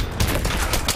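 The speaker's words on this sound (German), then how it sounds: "44er Magnum, schön ein Schuss." A single loud .44 Magnum shot fired in the Battlefield 3 video game, a sharp close blast with a brief rumbling tail.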